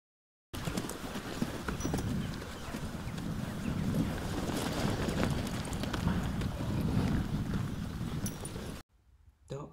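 Hooves of Apollo, a horse being ridden, clip-clopping steadily and close for most of the stretch with wind buffeting the microphone, then cutting off abruptly near the end.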